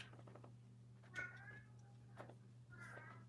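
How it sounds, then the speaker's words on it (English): A house cat yells for attention with two drawn-out, insistent meows about a second and a half apart, fairly faint against a low steady hum in a quiet room. "Lucy the cat is talking to you. She's yelling because she's decided that I've been spending too much time down here with all of you."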